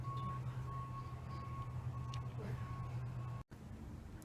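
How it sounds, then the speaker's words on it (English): A recycling truck idles nearby with a steady low engine drone while its reversing alarm beeps in a continuous high tone, moderately loud and close. "the damn recycling truck just drove by here 3 times"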